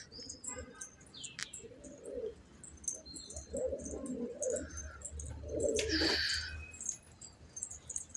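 Several pigeons in a loft cooing in soft low bursts, with scattered chirps and fluttering around them, fairly faint and close, no talk.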